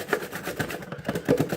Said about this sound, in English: And then I'm just going to grate this in here.